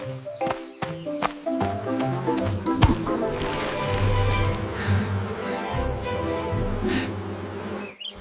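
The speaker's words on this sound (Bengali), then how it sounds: "এত বড় মৌচাক! এখানে অনেক মধু আছে।" Buzzing bees around a large beehive in a Bangla children's cartoon, a continuous droning hum over tonal background music with a few sharp plucked hits, fairly loud and close.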